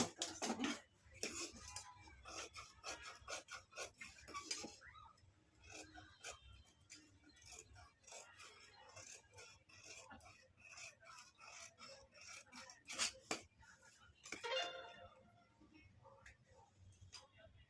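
Scissors cut through blouse fabric, a series of quiet crisp snips and clicks with some handling rustle, fairly close, while a person talks intermittently.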